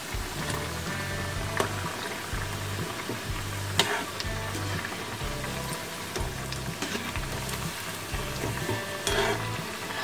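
Aloo-poha savoury donuts fry steadily in a pan, a continuous close sizzle with pulsing bubbling and occasional sharp pops, no talking.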